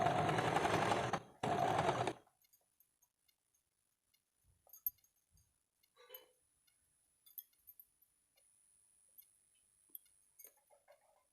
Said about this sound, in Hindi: अब इसको सिलाई कर देते हैं।